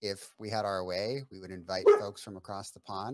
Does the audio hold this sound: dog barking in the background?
yes